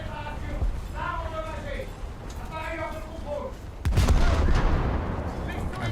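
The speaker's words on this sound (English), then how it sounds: "I'll just shoot the turrets." Ship guns in a naval video game firing at coastal turrets, a heavy booming blast partway through followed by a rumbling roar, while someone talks over the first part.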